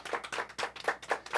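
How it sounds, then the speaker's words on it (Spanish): A small congregation claps at a Shabbat religious gathering, a short burst of quick, fairly quiet hand claps in loose rhythm with no talking. "un aplauso más para el Eterno"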